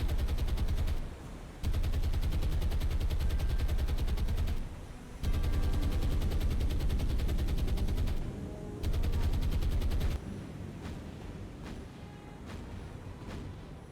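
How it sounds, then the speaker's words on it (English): A long, relentless barrage of bombs and gunfire from the War on the Sea naval game, dense rumbling explosions pounding in sustained waves with brief gaps, heavy and loud before easing to a quieter roar. "They just dropped like 60 bombs."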